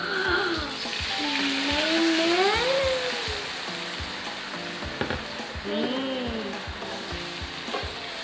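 Shrimp sizzle and fry in a pan of cooked, fragrant spice paste for a holiday meal, a steady close hiss with stirring scrapes and clatter, while several people talk over it.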